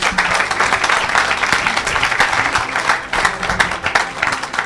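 A church congregation claps and cheers loudly for Jesus Christ, a dense, continuous wash of many hands applauding at close range with faint voices mixed into the crowd noise.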